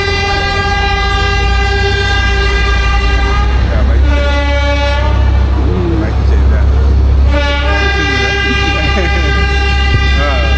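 A Uganda Railways passenger train sounds its horn while departing, a loud sustained multi-tone blare repeated in long blasts over steady rumbling, with people talking nearby.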